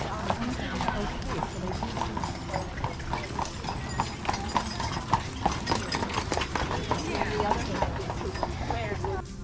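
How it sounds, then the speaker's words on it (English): Hooves of horses pulling hotel carriages on Mackinac Island clip-clop in a steady, close rhythm on the street, with people talking over the hoofbeats throughout. "they have carriages and horses specific for the hotel"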